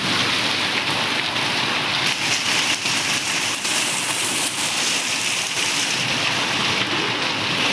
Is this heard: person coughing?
no